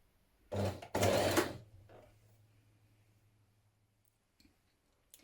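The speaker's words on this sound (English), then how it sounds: "you're going to stitch the dart in the bodice front lining" A home sewing machine stitches a dart in a dress bodice front lining in two quick bursts of whirring, followed by a fading hum and a couple of faint clicks.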